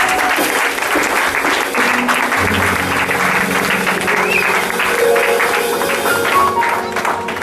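Sustained applause fills a church during a celebration as the congregation cheers for a young woman named Chloé, a steady dense clapping that holds at full level from start to finish with faint voices mixed beneath it.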